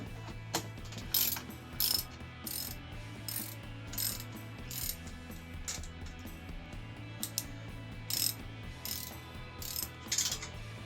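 A ratchet tightens bolts on an Axminster lathe stand, with repeated short bursts of clicking at a steady working rhythm over a low, constant background hum.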